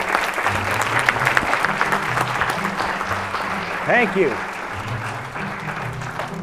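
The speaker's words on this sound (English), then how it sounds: "Give another round of applause to your MC." An audience applauds an MC with steady, dense clapping that lasts several seconds before thinning out, and a brief spoken word comes partway through.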